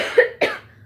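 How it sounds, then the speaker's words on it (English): A woman gives two quick, close coughs in succession, the second sharper than the first, with a short trailing breath after. "We're gonna skip because I got cough."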